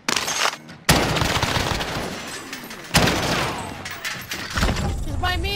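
Gunfire in the Warzone battle royale game, loud dense bursts of shots and sharp reports crackling through the whole stretch with several hard impacts, while players talk over it.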